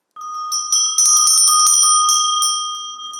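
A small hand-cast bell rings repeatedly in quick, bright strikes, each note sustaining with a clear metallic shimmer before fading.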